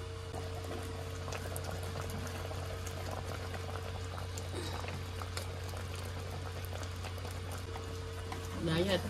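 Peanut brittle candy mixture boiling in a pot toward 310 degrees, a steady bubbling hiss with a low constant hum beneath, close and continuous, with a brief louder stir near the end.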